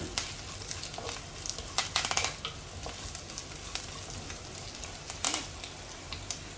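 Curry leaves and chopped green chillies frying in hot oil, a steady low sizzle with bursts of crackling spatter and occasional stirring, close by with no talking.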